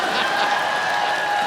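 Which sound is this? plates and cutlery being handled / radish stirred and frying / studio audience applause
studio audience applause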